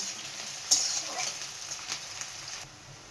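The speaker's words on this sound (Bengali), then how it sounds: "পেঁয়াজটা লাল লাল করে ভেজে নেব" Onion fries in a hot pan with a soft, steady sizzle, fairly quiet and close, with a few faint stirring knocks and no talk.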